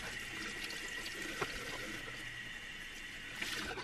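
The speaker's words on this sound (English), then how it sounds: "Okay, so I'm gonna rinse that off." Running water rinses face wash off at a sink, a steady splashing and trickling stream heard close and continuous.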